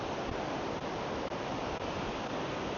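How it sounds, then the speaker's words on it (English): A big river running through a town in India, its broad steady rush of flowing water filling the scene as a continuous near wash with no voices. "This is the big river that goes right through town. There's a lot of water in it"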